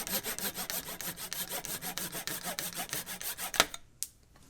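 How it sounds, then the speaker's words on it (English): Rhythmic back-and-forth strokes of a hand saw cutting a wooden wedge, close and steady, ending with a couple of sharp knocks as the piece comes free. "What you see here is me cutting a wedge"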